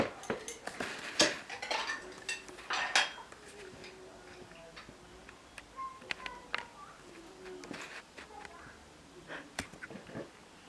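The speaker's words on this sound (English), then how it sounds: "You mix that together." A spoon clinks and scrapes against a bowl while a soft half-boiled egg and honey are mixed by hand, giving irregular light taps and clatters at close range over quiet background.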